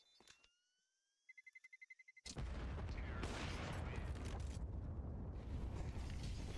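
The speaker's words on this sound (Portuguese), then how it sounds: "os disparos no meio da smoke" Counter-Strike 2 gunfire in the middle of a smoke grenade cloud: a rapid string of about ten sharp shots, then a loud, sustained roar of dense noise that fills the rest.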